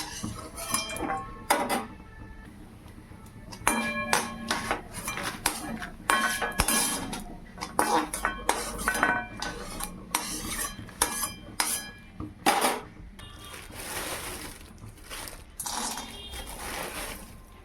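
Metal utensils clink and scrape against a pan in repeated bursts, with light sizzling in the gaps, close by, while flattened rice and peanuts fry in a little oil.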